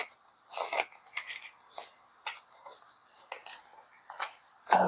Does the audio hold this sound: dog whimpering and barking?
no